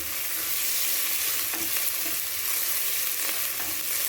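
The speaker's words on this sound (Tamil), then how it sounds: "வெங்காயம் நல்லா வதங்கினதும்" Onions frying in a pot for bisibelebath sambar rice give off a dense, constant hiss and sizzle, close and steady, with a couple of faint stirring touches and no speech.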